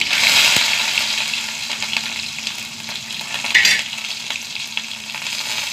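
Small shallots, mustard seeds, fenugreek, dried red chillies and curry leaves fry in hot oil, giving a close, steady sizzle with scattered crackling pops and occasional stirring scrapes throughout.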